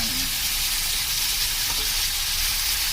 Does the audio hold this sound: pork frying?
yes